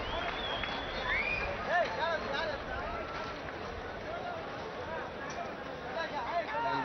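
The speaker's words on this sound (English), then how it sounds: "they've asked the players to come out, so a big cheer from the crowd" A big stadium crowd at a one-day cricket match between India and Australia cheers and roars as the players come back onto the field, a steady dense wash of noise with whistles, while a commentator talks over it.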